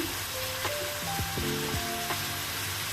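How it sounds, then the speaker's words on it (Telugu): Onions sizzle steadily in hot oil for a prawn curry, with ground shallots, coriander and green chillies added to the pan, a continuous soft frying hiss under faint tonal sounds. "ఇప్పుడు ఆనియన్స్ ఫ్రై అవ్వాలి."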